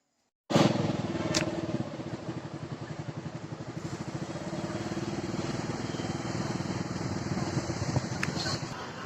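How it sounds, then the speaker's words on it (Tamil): Steady motorcycle engine drone heard close-up while riding to Semmozhi Poonga park on Cathedral Road, a continuous loud hum with a constant rhythmic thrum and wind, no talking. "ஸோ நம்ம பைக்கில் தான் வந்தோம்."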